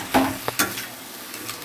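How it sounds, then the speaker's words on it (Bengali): Fish oil spooned into a pan of fish with salt and turmeric, then stirred: a few quick scraping knocks over a soft sizzle, up close and brief. "মাছের তেলটা দিয়ে আমি নাড়বো এবার ভালো করে।"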